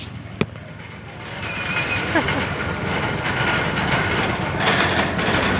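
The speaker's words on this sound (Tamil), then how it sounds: "பாருங்க, பெரிய வாகனம் வருது." A large vehicle rolls across a newly opened road bridge on the Paranthan–Mullaitivu route, a broad continuous rumble rising and holding steady with rattling, clattering texture, close and loud, after a brief sharp knock near the start.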